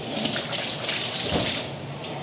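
Tap water runs steadily into a kitchen sink while seafood is washed, a continuous close splashing hiss.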